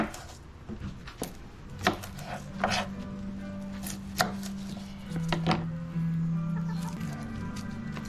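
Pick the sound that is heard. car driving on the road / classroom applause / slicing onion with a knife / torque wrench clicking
slicing onion with a knife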